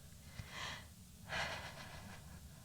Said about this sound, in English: More deep breaths.